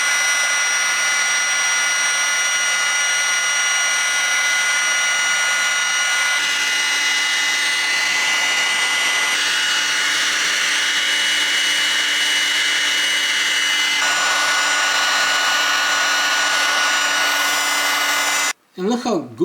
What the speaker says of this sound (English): I'm going to use my trusty heat gun on high setting